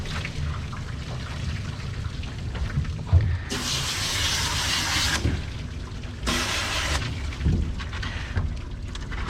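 A shampoo sprayer hisses on and off while a dog is washed, two loud bursts of spraying water, the first longer, separated by quieter trickling and handling noise.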